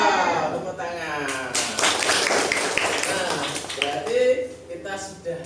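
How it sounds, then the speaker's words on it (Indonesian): Primary school pupils in a classroom break into a short burst of clapping, loud and close, between stretches of a teacher talking and children's voices. "Wow, tepuk tangan"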